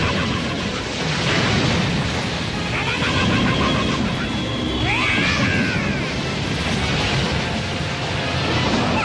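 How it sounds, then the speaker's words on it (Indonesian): A violent explosion from rapid laser blasts in the Dragon Ball GT anime, a roaring, crashing rumble with sweeping whooshes and crackling bursts, loud and sustained throughout. "tembakan laser yang Goten lancarkan ini menimbulkan ledakan yang sangat dahsyat"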